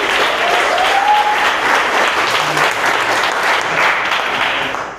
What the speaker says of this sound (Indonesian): tepuk tangan dulu untuk awal